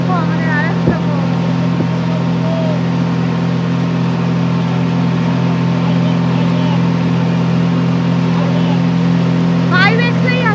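A motorboat engine drones steadily and loudly aboard a boat in the Sundarbans, a constant low hum throughout, with brief voices over it at the start and near the end.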